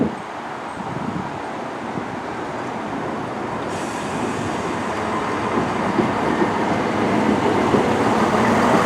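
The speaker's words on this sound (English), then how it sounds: "I'm catching the train now, and let's head to Nuneaton" An East Midlands Railway train departs with a broad, steady rumble that grows gradually louder and fuller over several seconds, heard close by with no talking.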